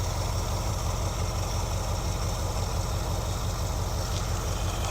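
A 1973 Ford Econoline E200 engine idles after a carburetor clean and tune-up, holding a steady, even low rumble with a close, continuous chug.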